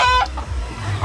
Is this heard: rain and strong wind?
no